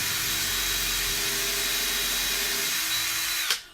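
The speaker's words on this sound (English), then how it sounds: "when you're drilling into timber, use the high speed" Power drill running at high speed into timber in a workshop, one continuous close whine that ends with a sharp knock as it stops.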